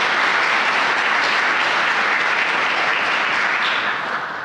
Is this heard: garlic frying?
no